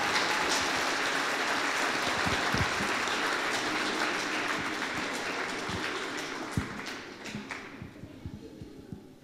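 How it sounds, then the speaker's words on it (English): Applause for soloists at a high school spring choir concert: a dense, steady wash of many hands clapping that gradually thins and fades over the last seconds, leaving scattered claps. "I think they deserve another round of applause"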